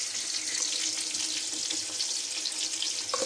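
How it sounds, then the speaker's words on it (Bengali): Tomato sautéing in a pan with salt, a steady close-up sizzle with a soft hiss and occasional faint stirring scrapes. "বন্ধুরা দেখুন এই টমেটোটা এখানে ভালো করে কষিয়ে নেব।"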